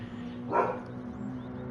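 A pet dog gives a single short bark, fairly near, over a steady low hum of background noise.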